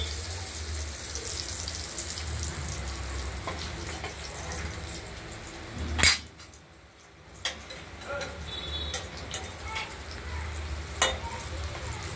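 Paneer pieces fry in hot oil with a steady low sizzle. A few sharp clicks and clatters break through, and there is a brief quiet dip partway through.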